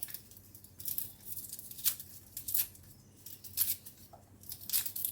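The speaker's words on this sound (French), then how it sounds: "Donc voilà, on va éplucher ça." Garlic cloves being peeled by hand in a kitchen, giving close, papery rustles and short tearing crackles of dry skin in irregular bursts, with no voices.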